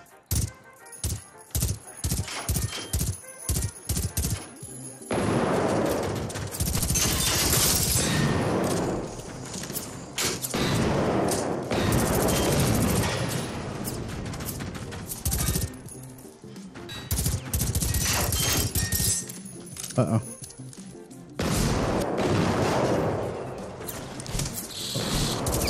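Video game gunfire, first a quick run of sharp separate shots, then long sustained bursts of loud rapid fire with brief pauses between volleys.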